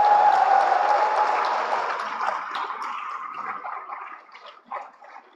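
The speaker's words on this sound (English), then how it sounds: "She needs much more applause." Applause from an audience for a national topper at a school professional development event, dense clapping that starts loud and slowly thins out, with a few scattered claps at the end.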